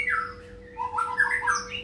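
A white-rumped shama (murai batu) gives a couple of harsh squawking calls over a steady faint hum, followed by a brighter run of chirps and whistled notes, moderately close.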